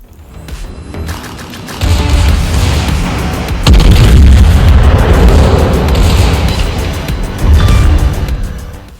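Secondary guns on the German Tier 8 battlecruiser Zieten fire in a naval video game, a dense run of booming blasts and rumbling bursts that step up in loudness and hold strong through the stretch, with no talking.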